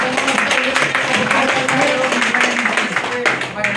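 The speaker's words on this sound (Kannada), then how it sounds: "ಅವರಿಗೆ ನೀವೆಲ್ಲರೂ ಒಂದು ಜೋರಾದ ಚಪ್ಪಾಳೆ ಮುಖಾಂತರ" Audience at a Raitha Sangha Hasiru Sene farmers' association meeting in Kunigal taluk, Tumakuru district, clapping loudly for the youth state unit president, a dense continuous burst of applause filling the hall.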